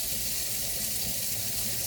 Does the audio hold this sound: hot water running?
yes